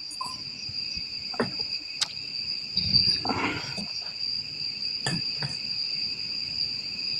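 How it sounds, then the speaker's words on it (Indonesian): Steady high-pitched insect chirring runs through the whole clip, joined by a few scattered knocks and a brief rustle near the middle. "Aduh, bunyi jangkriknya."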